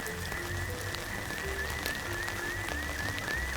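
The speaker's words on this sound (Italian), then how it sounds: "con questo brutto tempo e con questa pioggia" Steady rain falls on a wet street, a continuous patter with scattered drops, while frog-like croaks sound faintly in the background.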